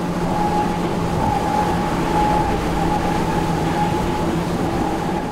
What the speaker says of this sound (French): C'est le bruit des foils. Ils agissent comme des ailes d'avion sous l'eau et portent le bateau pour le faire voler.